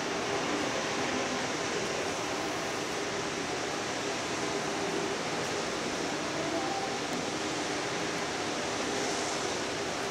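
Fukuroda Falls, heard from the mountain on its right side in autumn, makes a continuous broadband rush of cascading water, unbroken and uniform in loudness, with no one speaking.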